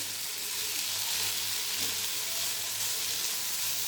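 Tamarind fries in a pan with ginger chutney ingredients for restaurant-style allam pachadi, giving a steady, dense sizzle that holds at an even level throughout, close by with no talk.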